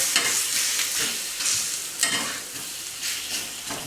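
Kolhapuri dhapate flatbread fries on a hot pan, giving a steady close sizzle with a few soft scraping thumps as it is turned over, alone with no voices.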